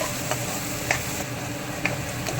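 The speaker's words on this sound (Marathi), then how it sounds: "त्याला मस्त तेलामध्ये असं परतून घेत आहे" Turmeric, spice powder and asafoetida sautéing in hot oil for a stuffed brinjal masala, a steady soft sizzle with a few faint stirring clicks, no talk.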